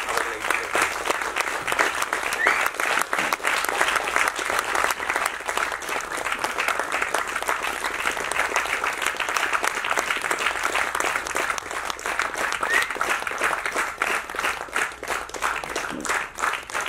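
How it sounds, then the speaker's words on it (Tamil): An audience at an award ceremony honouring social-welfare contributors, where actor Karthi gives aid, claps loudly and continuously, dense hall-wide applause holding steady for the whole stretch. "கைத்தட்டு பத்தாது"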